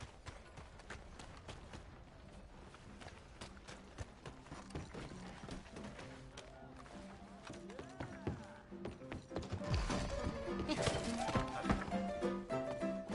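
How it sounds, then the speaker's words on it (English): A horse in the video game Red Dead Redemption 2 clip-clops along amid mechanical clatter and rattling, with faint whinnies. The sound is moderately close and gets busier toward the end, and there is little talk. "Damn that horse"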